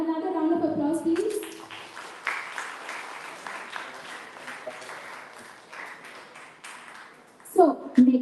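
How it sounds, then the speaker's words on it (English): A hackathon audience gives a round of applause for a speaker, a sustained wash of many hands clapping in a hall after a short stretch of talk, tapering off before a voice returns at the end. "So another round of applause, please."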